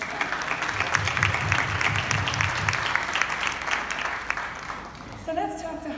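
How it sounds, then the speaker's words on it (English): A live audience at a JCI morning show in Goa breaks into a round of applause, a dense, steady wash of clapping that fills the room for several seconds before trailing off as a voice begins. "Round of applause for that."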